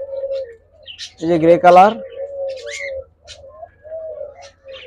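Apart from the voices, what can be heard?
diamond doves cooing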